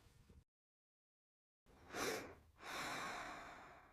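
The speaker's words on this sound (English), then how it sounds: "I am yawning." A person yawns close up after a short silence, a long breathy inhale that swells and then fades, followed by a second drawn-out airy breath, with no speech.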